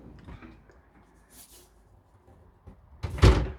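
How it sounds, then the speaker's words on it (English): Toilet door inside a Hymer BML i890 motorhome swings shut with a single firm clunk near the end, preceded by faint handling rustles and quiet room sound. "There you go, toilet door closed"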